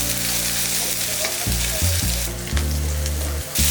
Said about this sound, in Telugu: హై ఫ్లేమ్లో ఒక రెండు నిమిషాలు సాటే చేసుకున్న తర్వాత గ్రీన్ చిల్లీస్ వేసుకుంటున్నాను